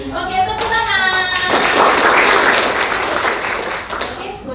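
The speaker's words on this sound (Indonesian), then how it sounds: "Oke, tepuk tangan." A classroom group bursts into applause, many hands clapping together in a dense, sustained wash that builds after a moment and holds steady at close range before tapering slightly at the end.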